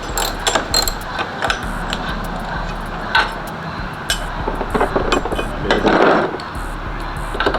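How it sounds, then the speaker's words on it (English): An 11 mm socket wrench ratchets bolts off the rear lower bumper trim of a Chevrolet Caprice, giving close, metallic ratchet clicks and clinks over a steady low hum, with no speech. "it's 11 millimeter socket you use to take off these bolts"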